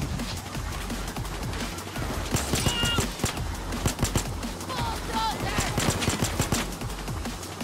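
Rapid AK rifle bursts in Payday 2, sharp repeated cracks layered over busy game noise and faint voices, steady and close throughout.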